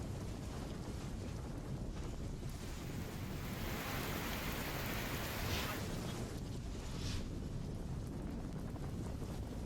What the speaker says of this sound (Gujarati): દાહોદ શહેર સહિત આસપાસના વિસ્તારોમાં પણ વરસાદ વરસ્યો